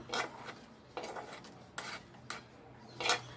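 Fried vermicelli being scooped from a pan onto a plate, a run of four or five quiet scraping and clinking strokes of a spoon against metal, close up with soft pauses between.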